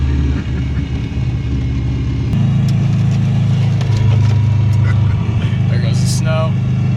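From inside the car, a rough-running Subaru WRX engine rumbles steadily through snow and rises in load partway through, a loud close drone with voices talking over it.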